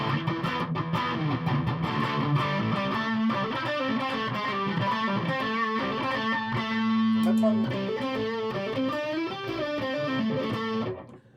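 A distorted electric guitar plays a sustained, heavily driven riff through the distortion channel of an Ibanez Toneblaster 100H amp, loud and continuous before cutting off at the end.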